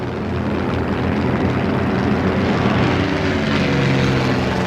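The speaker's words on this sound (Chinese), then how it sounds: "是，这飞机是不错，好得很。" Propeller fighter plane flying in a wartime air-combat scene, a steady loud engine drone with a low throbbing hum holding evenly throughout, no voices over it.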